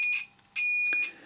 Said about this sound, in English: I've now switched the multimeter onto continuity test with beep.